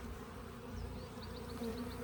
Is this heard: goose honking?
no